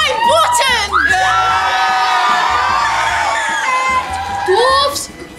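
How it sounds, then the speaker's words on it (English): A school pantomime audience of Year 7 children cheers and shouts loudly for several seconds, a dense crowd roar with high whoops rising and falling, and voices mixed in. "That was the part where you're supposed to cheer more."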